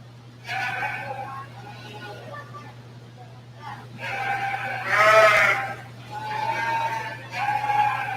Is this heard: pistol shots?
no